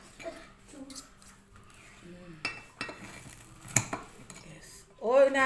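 A spoon clinks against a plate while someone eats pempek, with scattered light metallic taps under intermittent talk and a louder clatter at the end.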